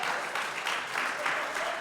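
An audience at a senior recital claps in a warm, moderate burst that swells and eases in waves, with some voices mixed into the applause.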